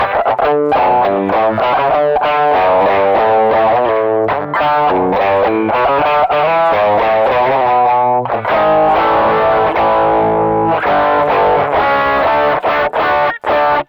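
A heavily overdriven electric guitar with boosted mids chugs and rings through an amplifier, dense and loud, with fast chopped rhythms and sustained crunchy chords.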